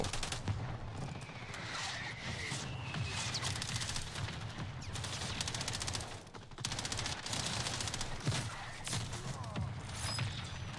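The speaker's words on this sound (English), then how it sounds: "Friendly mortar strike on the way." A friendly mortar strike in a video game pounds down as a long, dense barrage of blasts and crackling gunfire, loud and continuous, with voices talking over parts of it.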